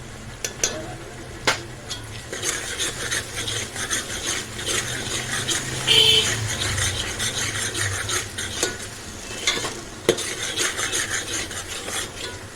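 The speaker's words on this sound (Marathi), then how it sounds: "मिनिटभर परतून घेऊया त्याच्यामध्ये कांदा लसूण मसाला टाकूया" Onion-garlic masala sautéing in a pan for Kolhapuri misal, with a low sizzle under repeated scraping and clinks of a spoon stirring against the metal, a few sharper knocks standing out.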